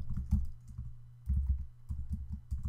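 Keys clatter on a computer keyboard in short irregular bursts of typing with brief pauses between, close and fairly soft, no voices present.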